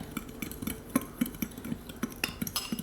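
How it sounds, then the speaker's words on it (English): Cinnamon and sugar being stirred in a bowl for a muffin swirl filling, with a spoon giving soft, regular scraping taps against the side, close and faint, about twice a second. "Now you're just gonna give this a good stir until it's all combined."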